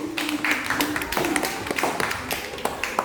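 Children in a classroom clapping for a classmate, a quick, uneven patter of many small hands, near and moderately loud, with some voices mixed in.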